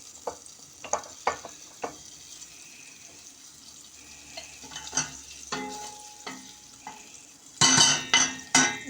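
Besel butter melting with vegetable oil in a pan on a lit stove for rice pilaf: scattered utensil clinks and scrapes over a faint hiss, ending in louder bursts of sizzling.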